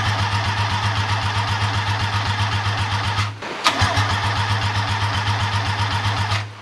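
A rotary engine fed from a bottle of fuel sputters and runs in a steady, loud, pulsing idle, briefly stumbling and catching again midway before carrying on rough and even.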